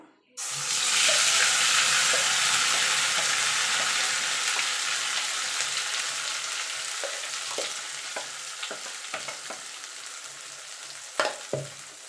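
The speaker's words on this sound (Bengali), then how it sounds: "এবার আমি যে লাউ পাতাটা বেটেছিলাম সেটা দিয়ে দেবো" Ground bottle gourd leaf paste hits hot mustard oil in a pan with a sudden loud burst of sizzling. The frying hiss stays steady and slowly fades, broken near the end by a few sharp stirring knocks.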